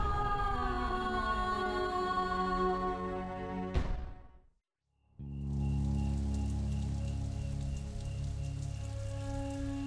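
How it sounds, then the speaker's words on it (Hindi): Heavy rain pours steadily as a dense, loud hiss, briefly cut by a dramatic musical swell and a moment of near silence, then resuming with a sustained music bed underneath. "अब तो बारिश भी तेज हो रही है।"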